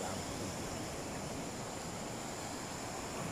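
Broad ocean waves on the shore in Antique Province, Philippines, a continuous dense wash of surf with wind noise, steady and fairly loud with no voices.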